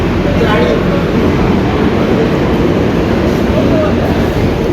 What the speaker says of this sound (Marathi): देवरुख रेल्वे स्टेशन गाडी आली आहे